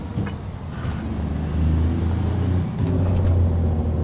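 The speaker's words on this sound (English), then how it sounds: "Feels like a nice responsive engine." A modded truck with a 625 engine from an engine mod pack idles and revs in American Truck Simulator, giving a steady, loud low rumble that swells slightly partway through with no talking.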